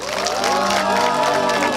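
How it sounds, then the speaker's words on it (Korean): Audience applause fills a Korean mayoral candidacy press conference, a steady, loud wash of clapping and crowd noise with a faint tonal backing sustained throughout the short stretch. "여러분 다시 한번 큰 격려의 박수 보내주시기 바랍니다"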